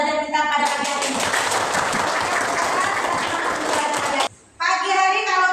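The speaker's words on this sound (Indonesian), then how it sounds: "ayo kita tepuk tangan semua untuk semangat belajar kita pada pagi hari ini" A class of schoolchildren claps together in a morning lesson, a dense burst of hand clapping lasting about four seconds before cutting off, with a teacher's voice speaking before and after.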